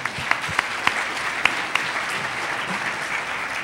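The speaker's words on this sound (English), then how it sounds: "give him the applause" Audience applause for a speaker at a panel discussion, a steady wash of clapping from a room of people with a few sharper claps standing out near the start, fairly moderate in level.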